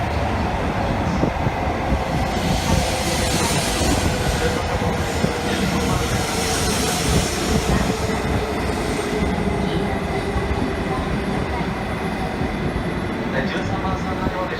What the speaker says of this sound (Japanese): 13番線にお電車到着をしております。